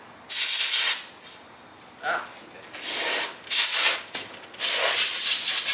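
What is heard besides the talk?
aerosol spray cleaner spraying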